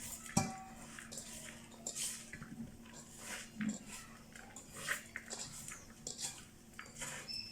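Salted food stirred in a pan at home, with faint scattered metallic scrapes and clinks of utensil on cookware, quiet and close, mostly without speech.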